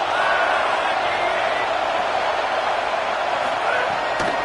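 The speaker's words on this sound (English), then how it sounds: "Listen to this crowd just shaking the girders of this place" A large stadium crowd roars continuously at a football game, a loud sustained wash of cheering with a sharp knock near the end.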